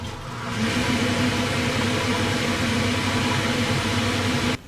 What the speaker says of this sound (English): Table 3 has an exhaust fan.